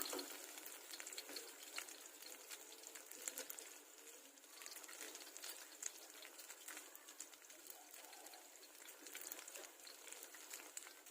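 Egg fries in hot oil for an omelette, a faint but continuous crackling sizzle with fine pops and spatters that carries on steadily without a break.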